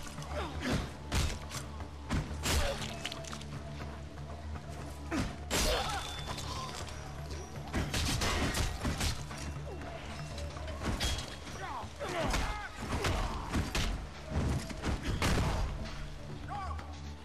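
Combat in the video game Rise of the Argonauts, repeated heavy weapon hits chopping enemies, dense thuds and crashes over a continuous low game score.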